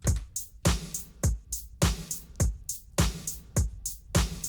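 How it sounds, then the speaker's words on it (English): A steady drum loop with punchy kicks and snappy hits, layered with a soft repeating shaker rhythm on top, played alone. "this next pattern is basically just the exact same thing, except I added in a bit of a shaker"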